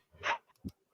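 A dog gives two short, sharp barks close by, with brief silence between them.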